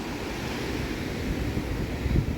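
Sea waves surge and wash onto a beach under overcast, stormy skies, a steady broad roar with gusty wind buffeting the microphone and a slightly louder surge near the end.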